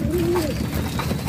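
Domestic pigeons on a farm give a low, wavering coo near the start, set against a steady broadband background hum, close and moderately loud.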